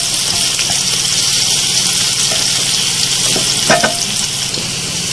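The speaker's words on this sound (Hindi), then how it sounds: "इसको मुझे ऑयल में थोड़ा सा फ्राई करना है, इतना कि हमारी प्याज थोड़ी सी गल जाए" Medium-sized chopped onions sizzle steadily in hot oil, a loud continuous frying hiss with a few faint scrapes of a spoon against the pan.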